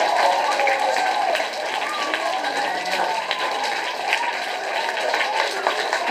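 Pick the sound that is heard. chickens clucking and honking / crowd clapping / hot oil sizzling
crowd clapping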